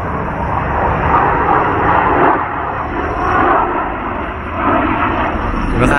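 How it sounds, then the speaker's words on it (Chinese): An airplane passes overhead in Hualien, Taiwan, producing a loud, steady roar that swells and fades slightly over several seconds with no talking. "还有飞机，来看一下"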